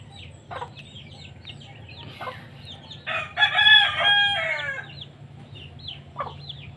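Chickens and a rooster cluck and squawk in short bursts, rising to a loud flurry of agitated cackling mid-clip as birds fight, then settling back to scattered clucks.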